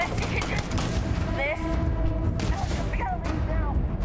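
Rapid bursts of gunfire in the space game Starfield, a steady dense barrage running the whole stretch with sharp cracks, while a voice talks over it.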